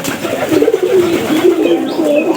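Close pigeon cooing, a steady run of soft, rolling low coos with faint chirps in the background.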